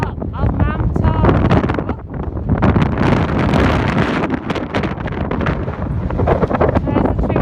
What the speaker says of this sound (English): if you can hear me over the wind, we are at the top of Mam Tor.